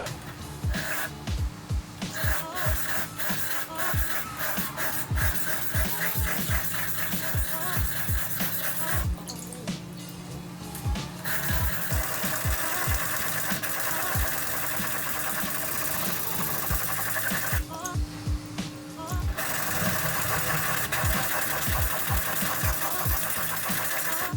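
A Kurosaki Aogami Super Fujin 120 mm petty knife being sharpened on a wet 220 grit whetstone, with a continuous gritty scraping in rhythmic back-and-forth strokes, briefly pausing twice, close and fairly loud.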